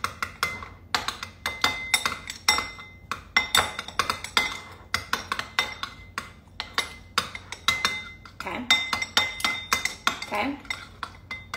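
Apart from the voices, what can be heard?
mixing food in a bowl with utensil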